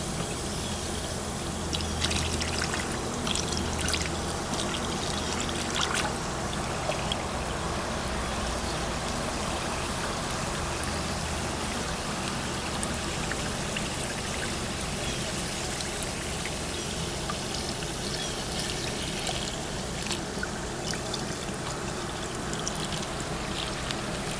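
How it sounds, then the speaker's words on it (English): Steady fizzing and bubbling of baking soda and water in a car battery, a dense trickling hiss that runs continuously at an even level from start to finish. "Look at that, how it's bubbling."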